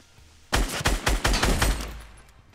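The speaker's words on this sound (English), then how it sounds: "Shots." Rapid gunshots ring out in the Fortnite battle royale video game, a sudden loud volley of about eight sharp cracks in quick succession after a quiet start, then fading echoes.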